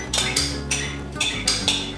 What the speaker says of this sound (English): Now we're going to plate the yogurt.